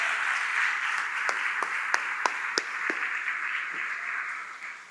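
A church congregation claps in a soft, diffuse burst of applause for a few seconds, with a few sharper individual claps standing out near the middle.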